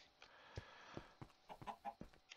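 A chicken clucking in the Minecraft video game, a string of soft, close clucks in a quick, uneven rhythm with no talk over it.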